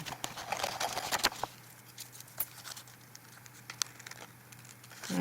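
Scissors snip and crinkle through a paper drawing at close range, with soft irregular paper rustles and a few sharp cuts, no talking.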